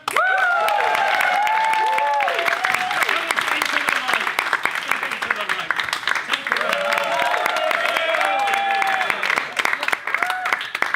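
An audience at a live improv comedy show claps steadily in sustained applause, with scattered cheers and a musical tone sounding underneath, while a host's voice comes and goes over the clapping.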